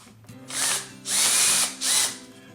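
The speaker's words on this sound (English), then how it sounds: "Tighten up this clamp," A power driver buzzes in three short bursts while tightening a clamp on a woodturning glue-up, each burst loud and close, with quiet pauses between.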